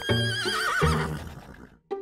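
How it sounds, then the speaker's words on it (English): A horse gives a loud, close whinny that wavers and trails off over about two seconds, then a short second neigh follows, with no talk over it. "there was a great big horse and a very little horse."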